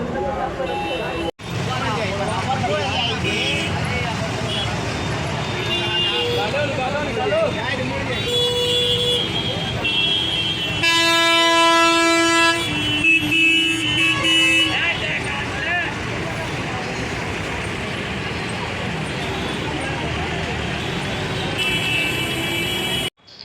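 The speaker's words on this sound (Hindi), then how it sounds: "यहाँ पे ट्रैफिक का हाल क्या है।" Heavy road traffic at Kauriha near the Kumbh Mela, with a steady roar of engines and repeated car and bus horns honking, loudest mid-way, while someone talks over the noise.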